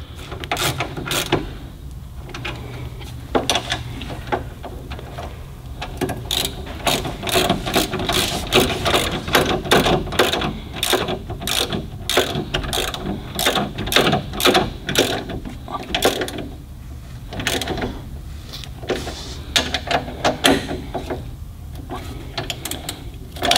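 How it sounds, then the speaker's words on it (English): Ratchet tightening brake caliper bolts on a Datsun 280ZX fitted with Wilwood brakes, a rapid, close series of clicking ratchet strokes in repeated bursts. "All I have to do is tighten with a ratchet."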